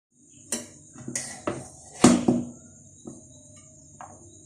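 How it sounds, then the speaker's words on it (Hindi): Beef yakhni pulao rice is served onto a dish with a few sharp, separate clinks and scrapes of a spoon against the plate in a quiet kitchen, and no voices. "और अब मैं इनको डिश आउट करके आपको दिखाती हूँ"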